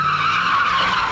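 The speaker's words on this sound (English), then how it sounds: "In this part of training, cadets learn to spin a car." A police training car spins out with its tires skidding and squealing, a steady, loud, continuous screech with engine noise underneath, heard alone throughout.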